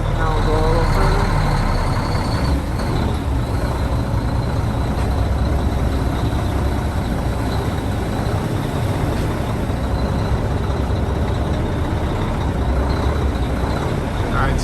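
Dump truck in a video game, a steady heavy engine drone with a faint high whine, running loud and continuous throughout.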